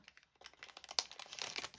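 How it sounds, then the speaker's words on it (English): Quiet papery rustling and rapid crisp flicking, like a small stack of cards being shuffled up close. "So you shuffle your card deck, which are all in here."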